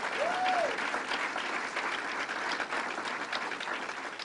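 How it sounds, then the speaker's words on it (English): A crowd applauds at a state fair speech, with sustained, even clapping from many people throughout the clip and a brief whistle near the start. "Let's give him a big round of applause and thank him very much."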